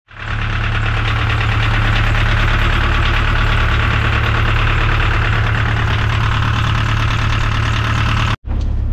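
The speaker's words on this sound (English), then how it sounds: "And then the engine's fired up." A crab potting boat's engine idles loud and steady at close range for about nine seconds, a continuous low rumble that cuts out abruptly near the end before resuming.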